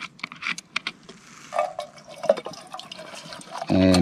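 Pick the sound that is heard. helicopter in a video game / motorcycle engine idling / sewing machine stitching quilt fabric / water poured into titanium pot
water poured into titanium pot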